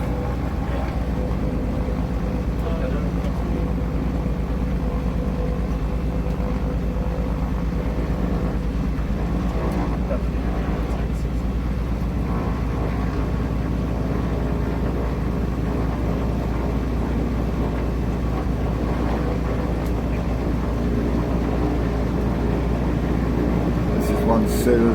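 Islander aircraft engines taking off from a very short runway, a loud, steady, close-up drone with broadband roar that holds throughout and swells slightly near the end.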